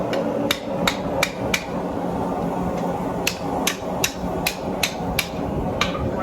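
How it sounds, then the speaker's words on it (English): A blacksmith hammers forged tongs on an anvil, sharp ringing metallic strikes arriving in quick bursts of four or five, separated by short pauses, close and loud over a low shop hum. "So I'm going to hammer down that side."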